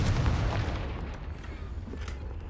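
A Confringo blasting spell goes off in Hogwarts Legacy, a loud low explosion bursting at the start and rumbling down into a fading tail, with no talking.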